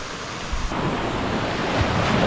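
Sea waves wash onto the sand at Ao Phutsa beach on Koh Samet, Thailand. The surf is a loud, continuous roar mixed with wind buffeting the microphone, and nobody speaks.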